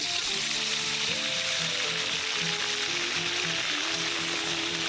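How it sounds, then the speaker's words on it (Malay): Eel frying in hot oil with turmeric and salt gives a steady, even sizzle and hiss that runs throughout, with a melodic tune playing along underneath. "Bila dah panas, dah boleh menggoreng belutnya."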